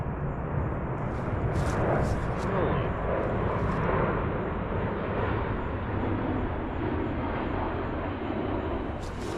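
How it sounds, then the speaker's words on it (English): A very loud military airplane passes overhead at a campsite in the southeastern US, making a steady, broad roar that fills the whole stretch without letup. "military airplane flying over. They're always really, really loud"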